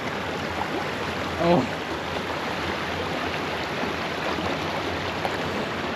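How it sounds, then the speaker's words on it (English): A river flows steadily through a mossy wooded area in New Jersey, a constant broadband wash of water heard close and even throughout, with a brief voiced exclamation partway in. "This entire river is really pretty"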